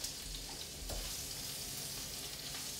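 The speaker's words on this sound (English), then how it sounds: "So you basically pretty much searing the scallops." Scallops searing in an oiled pan, giving a steady close hiss and crackle that runs continuously without talk.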